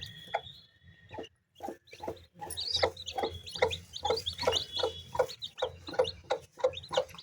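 A broody hen clucks in low, repeated bursts beside her newly hatched chicks, whose thin, high peeps chirp rapidly and continuously around her at close range.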